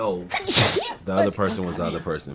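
A person gives a single sharp, close sneeze in a casual conversation, and people talk right after it.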